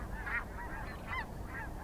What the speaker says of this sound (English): the snow geese, they continued to fly overhead